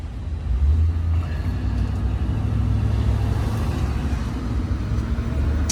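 A 1951 Plymouth Cranbrook fitted with a 2009 motor cruises along Hollywood Boulevard, giving a steady low rumble with road noise throughout.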